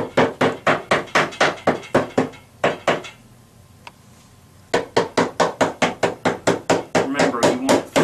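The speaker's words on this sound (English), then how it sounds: "you'll need the hammer to just tap it in there" A hammer taps a metal bracket into a drawer cabinet in quick, sharp strikes, pauses briefly, then resumes with another steady run of close, bright knocks.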